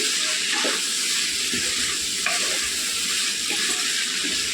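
Broad beans frying in a pan while being stirred, a continuous loud sizzle with periodic scraping strokes of the spoon roughly every second or so, close up and with no talking.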